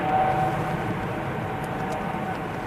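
An EasyJet Airbus A320 Neo at Manchester Airport in the early morning gives a steady, broad jet roar at moderate distance, holding even with a slight low rumble and no talk.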